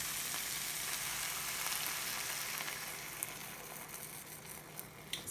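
Peanut butter and beef bouillon sauce cooking over very low heat in a pan for chicken domada, giving a steady close sizzle and faint stirring scrapes with a few light clicks of the utensil, no voices.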